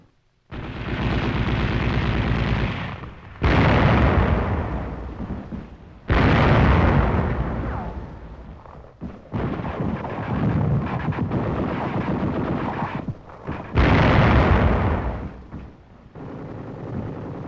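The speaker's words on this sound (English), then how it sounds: "Tanks blast Nazi strong points." Tank gunfire and explosions from 1944 wartime combat, tanks blasting German strong points around Mulhouse: a string of loud, rumbling blasts, each roaring for a few seconds, broken by brief gaps, with no voices.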